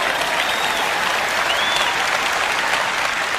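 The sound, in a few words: congregation applause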